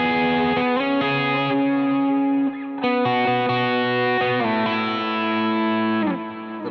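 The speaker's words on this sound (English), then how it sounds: "here's my sound without the drive kicked in there" Electric guitar played with a clean tone and no drive pedal, strummed chords ringing out one after another with a shimmering effects-unit character and steady loudness, no talking over it.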